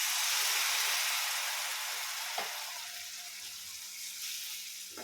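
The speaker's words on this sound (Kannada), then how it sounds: "ಆನಂತರ ಇದಕ್ಕೆ ಇವಾಗ ಹುಣಸೆಹಣ್ಣಿನ ರಸವನ್ನು ಹಾಕ್ಕೊಳ್ಳೋಣ" Tamarind juice sizzles in hot oil on a low flame while cooking puliyogare gojju, a steady bright hiss that fades slightly with a couple of soft stirring taps.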